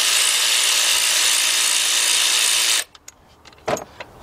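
A power tool or impact driver runs steadily for about three seconds, removing a 12mm bolt from the canister solenoid on a 2004 Nissan Maxima 3.5, then stops, followed by a few faint clicks and taps.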